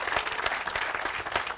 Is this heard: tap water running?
no